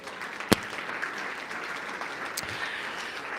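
Church congregation applauding during a French-language sermon, a steady, moderately faint patter of clapping with a sharp clap near the start and another later, no speech over it.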